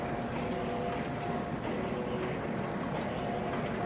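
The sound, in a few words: Stanko 5B161 gear shaper machine running, cutter rotating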